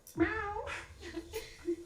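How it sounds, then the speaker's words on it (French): A cat meows in a few close, drawn-out calls rising and falling over a couple of seconds, clear and fairly loud with no talking over it. "Puis des fois, ça miaule."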